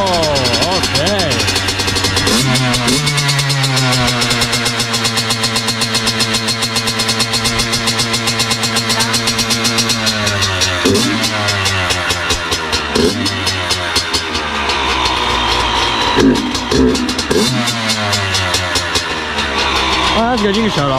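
A Yamaha YZ85 dirt bike with a rough idle starts and runs, its two-stroke engine loud and close, revving up and settling into an uneven idle while people talk over it.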